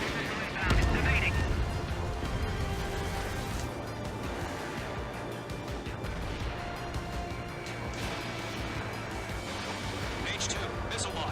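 Missile launches and explosions in the video game Ace Combat 7, one loud burst near the start and then a steady rumbling roar of jet and combat noise, with radio voices talking over it throughout.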